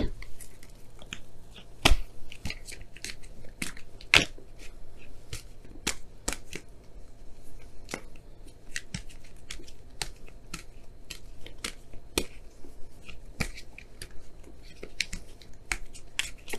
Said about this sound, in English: I'm going to pull you guys your wisdom of the Oracle card for this week.